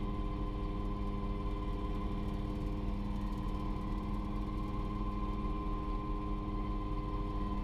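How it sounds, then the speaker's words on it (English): The engine of a light helicopter idles in a steady, unbroken hum with a low mechanical drone throughout, moderately loud and without voices. "Engine startup initiates with primer pumping and ignition"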